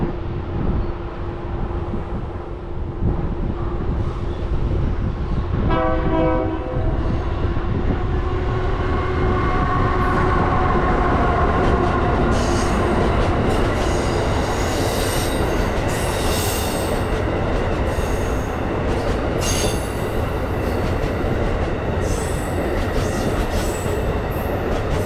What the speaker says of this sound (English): Amtrak Vermonter Train 57 meets 6846 just outside of the station